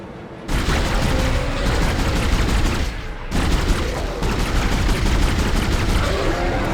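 Pulse rifle in Dead Space firing in sustained rapid automatic bursts, loud and dense, with a brief pause near the start and another gap midway before the barrage resumes.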